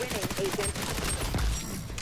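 Rapid automatic gunfire in the shooter game XDefiant rattles in quick bursts for about two seconds under a busy mix of game sounds.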